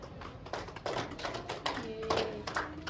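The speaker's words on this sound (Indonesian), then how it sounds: "Berikan aplaus kepada Rini" A small classroom group claps for a student named Rini, a scattered, uneven patter of hand claps in short bursts, close and moderately loud, with a faint tone near the end.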